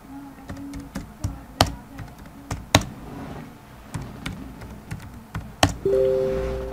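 Name being typed on a computer keyboard while writing a Google Docs message: irregular close key taps and clicks at an uneven pace, with a brief electronic tone near the end.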